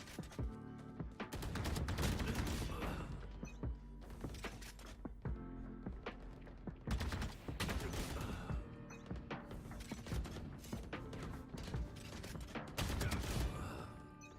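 Video game combat with repeated bursts of gunfire and heavy thuds, loud and close, coming in uneven waves with short lulls between volleys.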